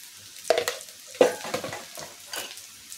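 Potatoes with red chilli, turmeric and salt are stirred in a pan, making a few distinct scraping strokes over a soft sizzle, close by and without speech.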